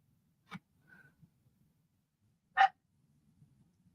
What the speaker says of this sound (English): Anastasia, both Trish and I love dogs, so there isn't a show where we don't have a dog barking in the background